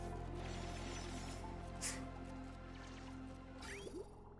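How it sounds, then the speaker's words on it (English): Water running into a container in Oxygen Not Included, a steady liquid fill with dripping and squishy splashes over a constant low hum of the game's background. "we fill it with water before we boil it"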